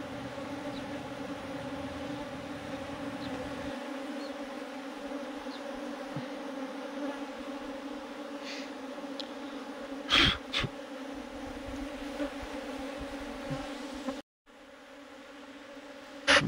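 A swarm of honeybees clustered around a hive box buzzes in a steady, close drone, with a few sharp knocks and a brief dropout partway through.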